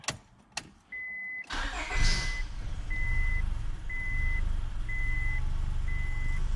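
A 2001 Honda Accord engine cranks and fires up after its fuel system is primed, then settles into a loud, steady idle close by, with a repeating electronic beep sounding at regular intervals over the running engine.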